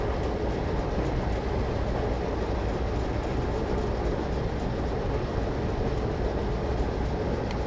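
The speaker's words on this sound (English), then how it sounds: "As we approach marker 1771, the train responds predictably and smoothly to my control." Train accelerating along the track in a train simulator game, a continuous loud rumbling roar with steady rail noise throughout, no voices.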